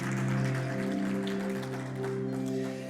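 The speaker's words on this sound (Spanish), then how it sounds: "Y ahora dele un aplauso fuerte al Señor" A church congregation applauding during a service, steady clapping heard faintly beneath a sustained organ or keyboard chord.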